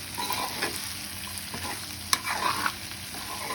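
Potatoes fry with bottle gourd peels in a pan, a soft continuous sizzle broken by scraping stirs and one sharp clack, with no voices.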